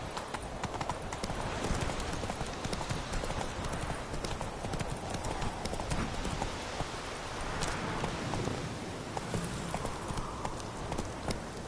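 Roach, a horse in The Witcher 3, gallops steadily with a continuous, rapid clip-clop of hooves, fairly close and even in rhythm throughout, with no talking over it.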